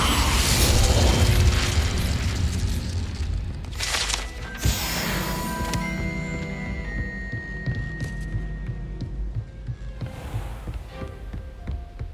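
Hogwarts Legacy's Incendio fire spell erupts with a heavy booming burst and roaring rumble, followed by lighter magical whooshes, pops and lingering tonal shimmer.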